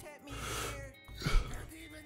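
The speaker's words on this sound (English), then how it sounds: "I don't know why I keep yawning" A person yawns close to the mic, a long, breathy, drawn-out exhale that swells near the middle and fades out. No other voices or sounds.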